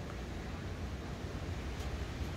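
Steady broadband rushing of wind, loud and continuous, buffeting the microphone with a low rumble throughout and no voices.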